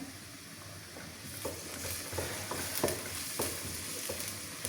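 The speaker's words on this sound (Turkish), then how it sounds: "Şöyle biraz soğanım pişsin." Onions sizzle and crackle steadily in a hot pot, with bone broth nearby for meatball soup, with occasional stirring scrapes over the constant frying hiss.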